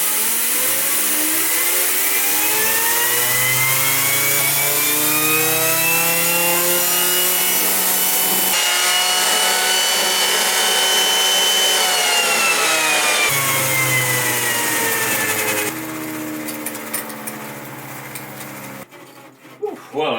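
A Lego bladeless turbine generator gives a mechanical whine that rises and falls in pitch with a grinding, whirring drone, steady for most of the time before winding down and sputtering at the end.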